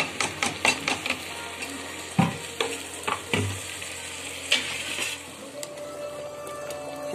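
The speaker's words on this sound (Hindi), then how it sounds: "इनको भून लेंगे थोड़ा सा" Ground masala sizzling and frying in a pressure cooker, with scraping stirs and soft clanks at an uneven pace, close and moderately loud, no voices.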